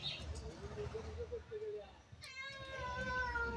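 Cadbury the cat meows repeatedly while resisting a bath, several drawn-out, wavering cries close by, with a person talking alongside and a harsher, higher yowl near the end.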